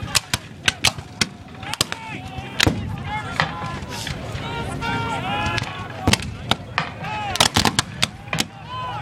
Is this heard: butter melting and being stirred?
no